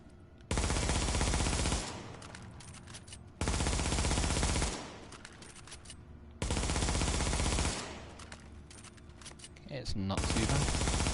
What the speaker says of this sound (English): We'll just go shoot some bullets at the firing range.